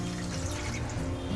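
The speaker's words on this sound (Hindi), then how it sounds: "एक कप पानी डालेंगे," A cup of water is poured into a curry gravy of fried spices and oil for dhaba-style paneer do pyaza, a steady, close liquid pour and trickle lasting under two seconds with no talk.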